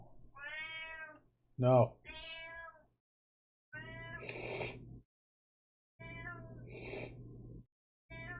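A real house cat meows repeatedly and insistently, a near series of drawn-out calls with short pauses between them, plus one sharp, loud vocal burst. It sounds indoors, with no clear talk in the gaps.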